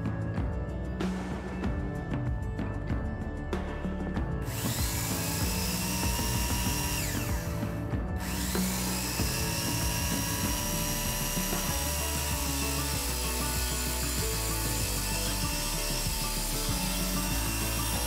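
A steady, continuous sawing sound cutting through wood, loud and close, with a rasping buzz throughout and a brief harsher stretch early on.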